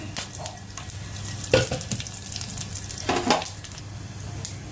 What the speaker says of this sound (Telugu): పోపు సరుకులు వేగిపోతున్నాయి